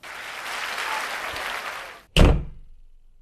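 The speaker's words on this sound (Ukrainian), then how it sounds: "Тут мали бути аплодисменти." Recorded applause effect from a comedy news show, a steady wash of clapping for about two seconds that cuts off abruptly, followed by a single heavy thunk like a door slamming shut that rings briefly and fades.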